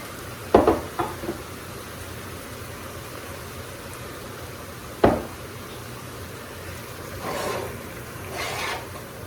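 Seasoned ground beef browns in a pan with a soft, even sizzle, broken early on by a few sharp spatula scrapes and one later scrape, with no talking.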